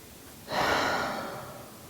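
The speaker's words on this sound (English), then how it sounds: "take a moment, take a deep breath" A single deep breath, close and fairly loud: a long, airy rush that swells and then slowly fades, with no talking.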